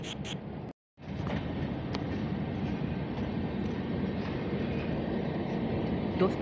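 A Kerala Rajdhani Express running from Trivandrum Central to Hazrat Nizamuddin, nearing Vadodara Junction, gives a steady, dense rolling rumble heard from inside the coach. After a momentary dropout near the start, the sound continues unbroken with faint rattles and clicks.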